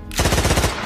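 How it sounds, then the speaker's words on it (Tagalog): Gunfire from a Filipino audio drama about soldiers, rebels and aswang bursts in suddenly as a close, loud, rapid rattle of shots lasting under a second, then fades into a short echo with no speech. "Pumalingaw-ngaw ang putok ng baril"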